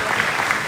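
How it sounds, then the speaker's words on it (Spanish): Audience applauds for three conference participants and the teachers who asked questions, a dense, steady wash of clapping heard at close range over a brief moment. "Un aplauso fuerte para nuestros tres participantes"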